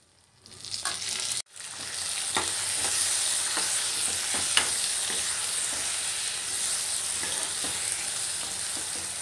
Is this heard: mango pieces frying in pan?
yes